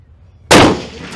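A single sharp rifle shot at an outdoor precision rifle match, a sudden loud crack after brief quiet, trailing into a short decaying echo.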